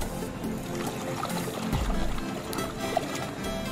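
Water pours and trickles over muddy toy safari animals being washed, a steady close splashing flow with small drips and bubbling.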